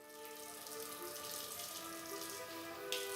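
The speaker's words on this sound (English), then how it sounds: "I rinse off the cleanser with water." Water runs steadily from a sink tap while someone rinses cleanser off their face, a quiet continuous splash with slight shifts as hands move through the stream.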